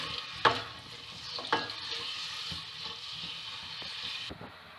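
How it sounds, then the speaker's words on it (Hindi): Onions fry in oil for yellow moong daal, a steady close sizzle broken by a few loud spoon scrapes and stirs against the pot near the start, the sizzle easing off at the end. "अनियन को फ्राई करेंगे"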